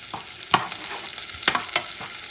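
Garlic paste sizzles in a pot for a spicy beef stew, a bright crackling hiss broken by several scraping stirs of a spoon against the pot.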